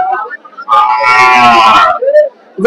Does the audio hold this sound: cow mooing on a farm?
yes